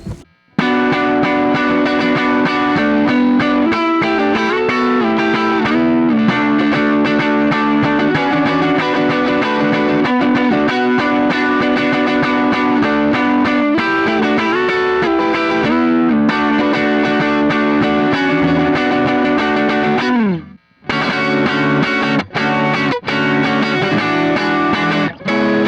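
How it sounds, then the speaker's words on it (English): Electric guitar played through the goat drive overdrive effect on a Zoom G2X10 multi-effects unit, sustained lower-gain driven chords and lead notes ringing continuously, with a brief pause near the end before a few choppy strums. "I like to use a tube screamer or this goat drive effect from my Zoom G2X10 for some rhythm/lead guitar parts with a lower gain."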